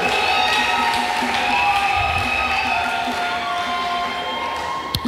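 A gospel awards ceremony audience applauds and cheers in a dense, steady wash of sound, with sustained tonal music or singing running underneath throughout.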